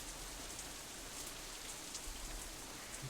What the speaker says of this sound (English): I think as long as we get out of the rain, I'll be happy.